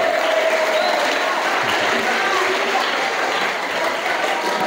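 Seminar audience at a boarding school event in Jakarta gives loud, dense, sustained applause, a steady wash of many hands with crowd noise underneath throughout.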